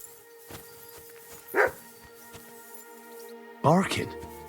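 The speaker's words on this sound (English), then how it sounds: "Barking." A dog in Kingdom Come: Deliverance 2 gives two separate barks, the second louder and longer, against a quiet ambient backdrop with faint soft knocks in between.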